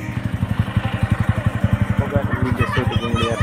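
A motorcycle engine idles close by with a loud, regular thumping beat. Faint voices come in near the end.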